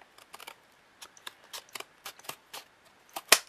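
Scissors snipping through chipboard strips, a series of sharp, irregular close-up cuts and clicks with short pauses between, ending in one louder crisp snip.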